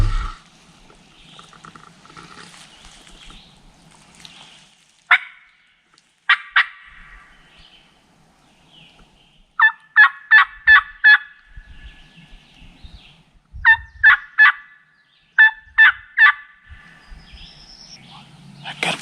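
Several bursts of wild turkey gobbling in an Alabama woods during a midday hunt, coming in rhythmic groups of rapid pulses, moderately distant and clear against a quiet background, with a faint low murmur of speech.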